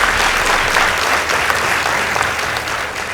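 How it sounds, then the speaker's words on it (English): Audience applause for the Molo Academy debate team at a school debate contest, a steady wash of many people clapping that holds throughout and tapers slightly at the end, with no talk over it. "Please give them a round of applause."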